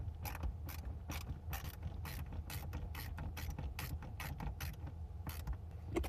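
A screwdriver drives the last two screws into the overhead sunglasses bezel of an MK6 Jetta, a close series of quick ratcheting clicks and short bursts repeating in a fast irregular rhythm, with no talking.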